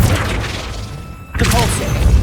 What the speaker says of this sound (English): That looks as if it might raise the gate. Flipendo!